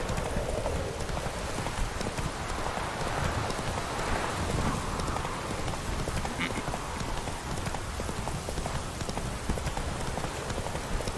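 Horse hooves clip-clop steadily in The Witcher 3 as the mount sets off, a dense rhythmic patter over an outdoor ambience with faint rain-like texture, continuous throughout.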